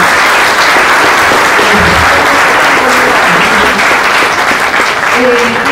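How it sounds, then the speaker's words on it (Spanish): An audience at a public management course lecture breaks into loud, sustained clapping that fills the room evenly throughout, with a few murmured voices mixed into the applause. "Un aplauso."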